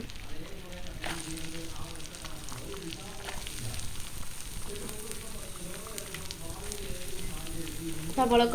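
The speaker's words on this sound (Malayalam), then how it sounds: "ഇതിലേക്ക് നമ്മൾ സബോള ഇട്ട് കൊടുക്കുകയാണ്" Sliced onions sizzle and fry steadily in a hot pan while a paneer curry is cooked, a continuous close crackle running under a person talking, with a brief clatter near the end.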